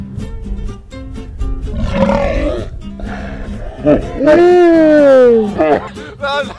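A loud, deep burp drawn out like a lion's roar, rising and falling over a few seconds in a burping challenge, with other voices and sounds around it.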